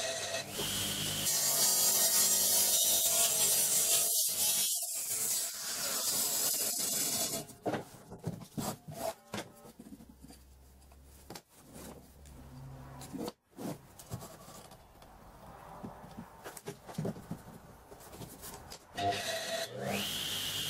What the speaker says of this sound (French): je découpe la languette qui coulissera dans la rainure